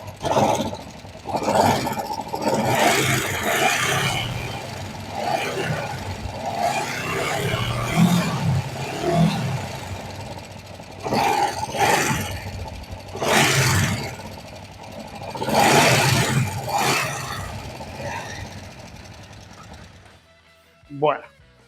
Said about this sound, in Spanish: Vamos a arrancar la moto y he visto que también está bien. Vamos a ver si se oye bien.